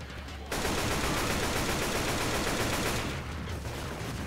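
Sustained rapid automatic fire from an AK rifle in Left 4 Dead 2, a loud, dense continuous burst that starts abruptly after a brief lull and runs nearly unbroken to the end.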